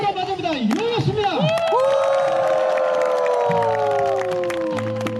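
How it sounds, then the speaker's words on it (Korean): Crowd cheers and whoops at a retro camping gathering, with rising and falling shouted voices and some clapping, loud and close throughout. "박수와 함성으로 맞이합니다."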